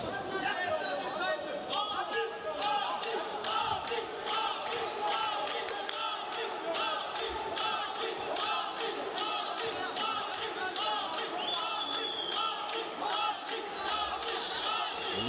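A crowd of spectators at an MMA fight, with dense, continuous chatter and shouting that fills the hall at a steady, loud level throughout.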